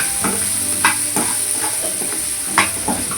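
Shallots frying and being stirred in a pan as turmeric powder goes in: a steady close sizzle with several scraping stir strokes, no voices.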